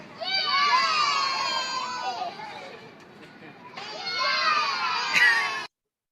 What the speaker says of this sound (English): What are they cheering? A man digging a hole and throwing a dirt.